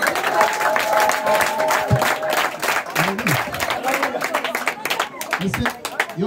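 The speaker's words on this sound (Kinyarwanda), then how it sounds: "uyu mugabo tumukomera amashyi" An audience at a school party claps and cheers for a musician, steady dense applause lasting several seconds, with voices talking over it.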